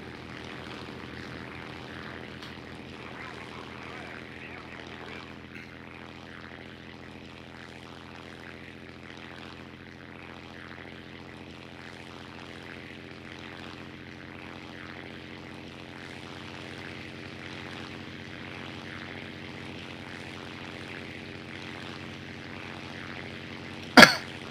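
Propeller-driven dive bomber engine in War Thunder droning steadily and evenly throughout, a continuous mid-level hum with no talk, ending in a brief sharp burst.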